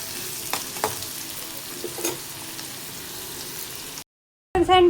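Capsicum and tomato sizzle in a pan while being stirred, with soft scraping clicks over a steady fry, then a brief silence before a louder burst at the end.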